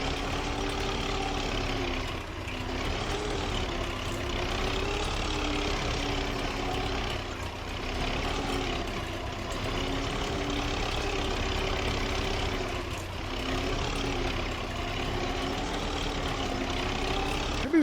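Small tractor engine running steadily in Farming Simulator 25, a continuous near, loud droning rumble with a slight periodic wavering, working across stony ground, with no voices over it.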